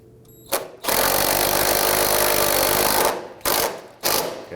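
Power tool driving a bolt on a 2008-2011 Ford Focus during a trailing arm bushing job, one long loud steady whir of about two seconds followed by two short bursts, close up with no talk.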